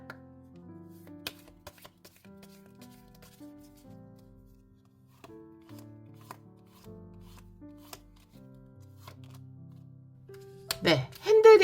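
Oracle cards riffled and shuffled by hand at close range, a run of soft papery flicks and taps that grows busier toward the end, with someone talking over it.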